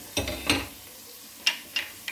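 Carrots sautéing with golden-brown onions in a pan, heard as a few separate short scrapes and clatters of stirring over a faint background sizzle.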